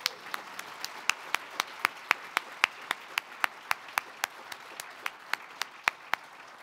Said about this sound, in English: One more round of applause for Jamie.